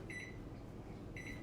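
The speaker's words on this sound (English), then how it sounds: "I'm gonna put it in the microwave for about 30 seconds" A microwave oven hums steadily while melting cheese, a constant low drone with a faint high whine, and short tonal bleeps at the start and end; no speech.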